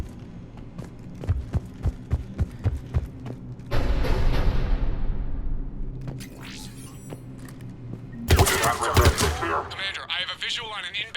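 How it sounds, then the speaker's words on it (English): Heavy cannon fire booms in Mass Effect 3, with repeated thudding blasts, a long roaring rumble, then a loud burst of explosions. "The cannon fire is clearing the way."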